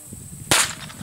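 A single sharp crack from a Colt Woodsman .22 pistol rings out during an outdoor shooting duel, close and loud with a quick decay, set against a quiet, low background hum.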